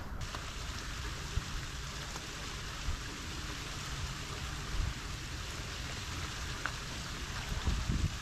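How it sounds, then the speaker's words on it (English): Steady broadband rush of water tumbling down cascading waterfalls on a rain-soaked winter hillside, continuous and fairly distant, with no talking. "cascading waterfalls."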